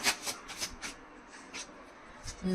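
A deck of tarot cards is shuffled and handled during a pick-a-card reading, giving soft riffling bursts and slides at an irregular pace, close and fairly quiet, with no voice.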